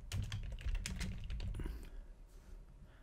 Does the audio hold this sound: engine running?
no